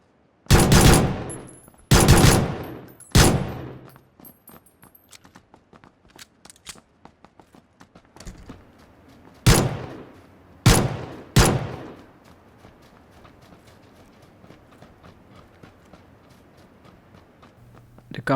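Gunfire in the battle-royale game Battleground: a handful of loud, sharp shots spaced irregularly, some in quick pairs, with faint clicks and rustles between bursts.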